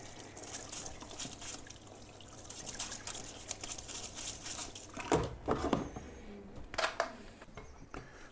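Water trickles and splashes while machine parts and tooling are rinsed off, a steady running flow with a few louder bursts of splashing toward the end.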